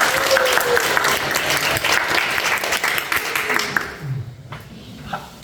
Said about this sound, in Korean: 우리 이분을 위해서 큰 박수 한번